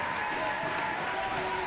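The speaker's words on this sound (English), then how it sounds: "The fans are here, and they're cheering both of their teams on." Basketball crowd at a girls' area playoff game between Rio Hondo and Somerset, cheering and applauding at halftime; a steady, dense wash of crowd noise and clapping throughout, with no lull.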